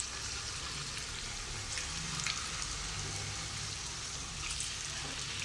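Gola kebabs frying in hot oil: a steady, dense sizzle with scattered crackles and pops, close and even throughout, with a low background hum.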